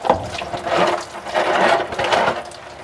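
Diesel fuel drains and splashes during a truck fuel filter replacement, running down onto the frame; an uneven close trickling and spattering rises and falls in several surges, with no talk.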